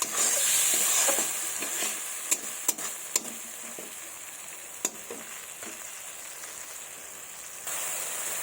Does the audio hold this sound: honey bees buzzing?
no